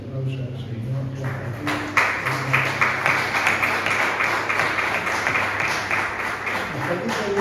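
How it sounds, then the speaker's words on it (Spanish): A church congregation bursts into applause, a dense, sustained clapping that swells in and keeps going at full strength for several seconds after a preacher's voice. "Démosle un aplauso al Señor."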